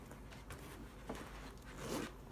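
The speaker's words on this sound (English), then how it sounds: "this zips open, and it has a pocket on the inside" A Coach Andi mini backpack in gunmetal gray has its zipper drawn open, giving a soft, close ripping rasp that swells near the end, heard alone.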